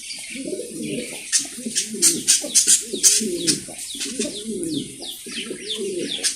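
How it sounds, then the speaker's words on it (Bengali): A breeding pair of Mundian pigeons coos in a farm loft, with repeated low, rolling coo phrases close by and bright chirps and tweets from other birds over the top, with no voices. "এইখানে আরও এক জোড়া মুন্ডিয়ান কবুতর এগুলা ব্রিডিং চলতেছে"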